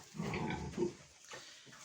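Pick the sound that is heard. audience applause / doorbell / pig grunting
pig grunting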